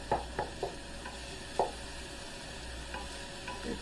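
Coconut flour mixture browning in a pan as it is stirred, with a soft steady sizzle underneath and several short scraping strokes of a utensil across the pan, close and moderately quiet.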